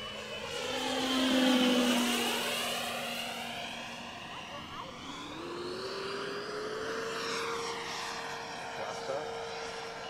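AeroFoam MB-339 105mm RC EDF jet flying overhead, its ducted fan whine sweeping up and down in pitch as it passes, loudest near the start and fading slightly, with continuous roaring drone.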